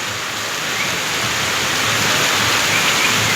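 Heavy rain pours steadily in a foreign country, a dense, even roar of hiss that swells slightly louder toward the end, with no voices over it.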